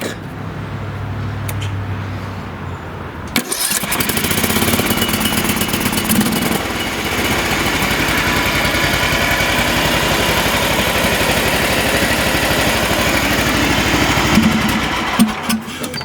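A small Briggs & Stratton petrol engine gets a pull start, then catches and runs steadily at a loud, even idle for the rest of the clip, with no voices.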